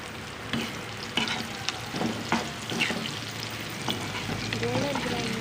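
Sliced bitter gourd (karela) frying and sizzling in hot oil with salt added, a steady crackling hiss broken by occasional stirring clatters, close and alone.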